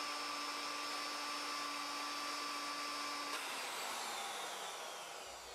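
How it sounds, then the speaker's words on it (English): A handheld router cuts steadily along the edge of a wooden tabletop for a curved table, a loud continuous high whine that holds evenly, then drops in pitch and winds down near the end, with no talking. "Carefully route around the edge of the tabletop."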